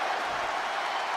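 A large arena crowd in the WWE 2K23 wrestling game roars in a steady, dense wash of cheering that holds at an even level throughout.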